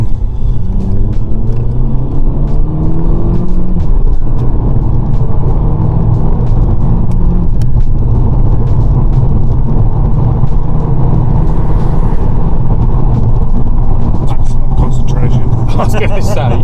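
A cheap manual VW Golf pulls hard on a wet 60 road, its engine droning loud and steady with a low rumble and tyre hiss throughout, close and continuous.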